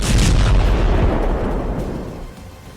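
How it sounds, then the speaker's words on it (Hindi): Bomb shells from air strikes on Gaza explode in a heavy, loud blast that fills the air with a deep rumbling roar, then slowly decays and fades over a couple of seconds. "गाजा पर लगातार एयर स्ट्राइक हो रही है, ग्राउंड पर बम के गोले गिर रहे हैं।"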